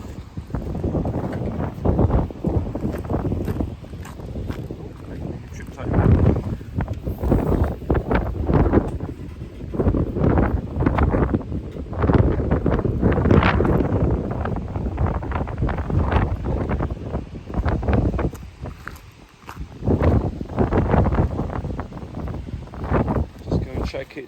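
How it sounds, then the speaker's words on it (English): Strong gusty wind outdoors buffets the microphone in repeated surges over roughly twenty seconds, with a person talking intermittently beneath the roar. "It's still very windy."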